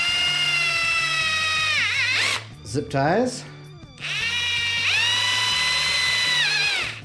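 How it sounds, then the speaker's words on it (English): A cordless power drill whines at full speed while boring holes for zip ties in a wrecked budget vehicle, pausing briefly mid-way as someone speaks, then spinning up again for a long steady run. "So we're drilling our holes right now"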